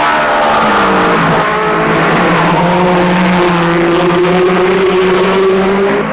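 1950s Grand Prix cars at the German Grand Prix, Fangio's Maserati leading the Ferraris of Hawthorn and Collins: a loud, continuous engine drone with pitch rising and falling as the cars race past.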